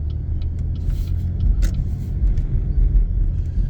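A car in a residential neighbourhood pulls away from the curb and gently accelerates off, a low steady engine rumble close by with a few faint clicks and no talk.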